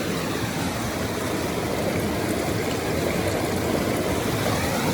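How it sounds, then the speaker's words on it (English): Water pours steadily through four gold-mining sluice boxes in a dense, even rush with no pauses or voices. "4 sluice boxes running."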